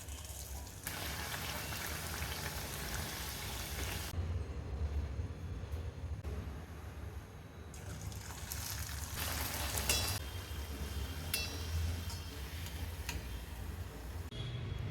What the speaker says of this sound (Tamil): இப்போ ஃப்ரை பண்ணிக்கலாங்க